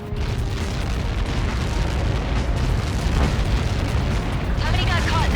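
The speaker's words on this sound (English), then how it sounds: "How many got caught in that explosion?" A Helios missile strikes in the video game Ace Combat 7 with a sustained, loud rumbling blast and roaring debris noise that fills the whole stretch, with game radio chatter over it.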